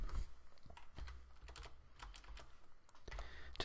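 Brisk, quiet typing on a computer keyboard, a quick irregular run of close key clicks with a few sharper taps.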